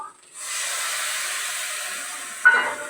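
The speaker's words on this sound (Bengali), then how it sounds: "দেখো তিল এটা তিল রান্না করছি" Sesame seeds sizzle in a hot pan with a steady broadband hiss that starts after a brief quiet moment and holds evenly, ending in a sharper flare of sizzling.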